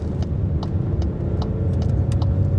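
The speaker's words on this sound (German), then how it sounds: "Im Moment 1500 Umdrehungen, 6. Gang, der läuft sehr schön ruhig." A Skoda Kamiq 1.0 TSI with 85 kW cruises smoothly in sixth gear at low revs through a bend, its engine a low steady hum under constant road and tyre noise, with small clicks scattered over it.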